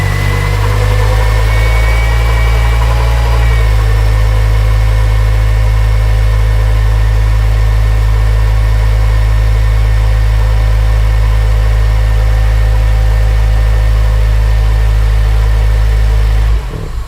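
Honda Civic Type R engine idling with a noise from a belt-driven component, a loud steady drone with a constant whine running throughout, a slight change in pitch early on, alone without talk.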